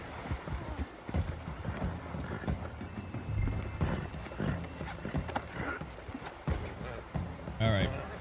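In Red Dead Redemption 2, a horse's hooves clop in an uneven rhythm alongside splashing water as the horse swims, with someone talking over the action throughout and the game's scoring and effects layered underneath.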